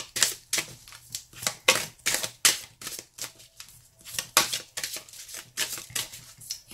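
Tarot cards being shuffled by hand, a close series of crisp riffling bursts in an irregular rhythm, about a dozen quick flutters with short pauses, quiet and alone without talk.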